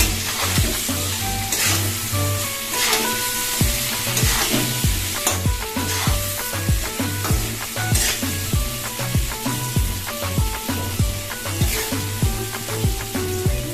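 Banana blossom fries in a pan with turmeric powder, a steady loud sizzle broken by regular scraping stir strokes and clinks of a spoon against the pan throughout, with no voices.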